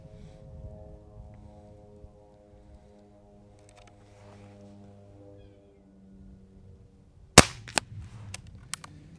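A Benjamin Maximus .177 air rifle fires outdoors: after a quiet stretch with a low steady hum, one sharp, loud crack rings out, followed by a few fainter clicks as it is handled.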